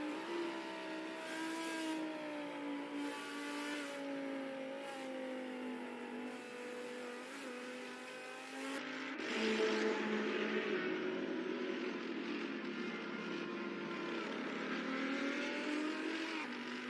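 An Audi race car engine in a sim racing video game, a steady sustained drone with layered harmonics that shifts at about nine seconds into a brighter, rougher tone, with no talk over it.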